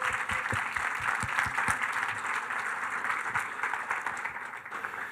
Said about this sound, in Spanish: quería darle un fuerte aplauso a toda la gente